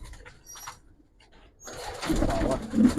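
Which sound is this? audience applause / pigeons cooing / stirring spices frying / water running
pigeons cooing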